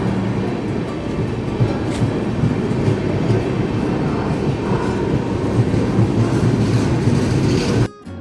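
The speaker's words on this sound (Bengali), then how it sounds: "এই যে ঢুকছে জম্মু তাওয়াই।" Jammu Tawi Express entering Gomoh station, a loud continuous rumble of rolling wheels and rattling carriages close by, steady until it cuts off abruptly at the end.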